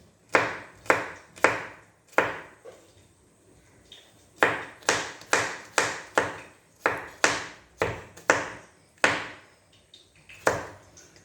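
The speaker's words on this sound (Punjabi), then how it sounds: "ਜਦ ਤੱਕ ਆਪਾਂ ਆਪਣੇ ਪਿਆਜ਼ ਜਿਹੜੇ ਚੀਰ ਲੈਣੇ ਆ" A knife chops onions on a board in crisp, close taps, about seventeen strokes in uneven runs with short pauses between groups, and no voices.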